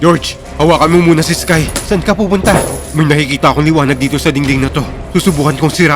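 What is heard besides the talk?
No everyday noises stand out.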